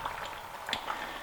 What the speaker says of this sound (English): it's a nice sizzle sound there